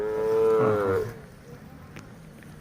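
Hallikar cattle give a single loud, drawn-out moo lasting about a second, then quieter background noise with faint talk.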